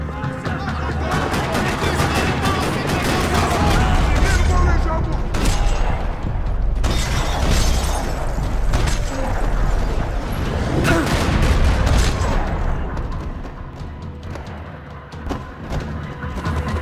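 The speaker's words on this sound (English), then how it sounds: "Another parking lot rattling with gunfire" Sustained gunfire rattles through a parking lot in the video game Max Payne 3, dense bursts and booms layered with clatter, loud and continuous, with some voices mixed into the chaos.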